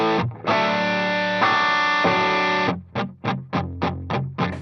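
Electric guitar played through a Dumble-style overdrive pedal: a long sustained distorted chord held and shifted, then six evenly spaced, punchy chopped chords ringing loud and close with no talking.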